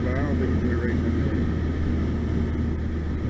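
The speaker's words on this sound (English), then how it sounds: "a lot of wind noise coming when you open the sunroof" Inside a BMW 328i on the move, the open sunroof lets in a constant broadband roar of wind buffeting over a low engine and road rumble, with a brief voice near the start.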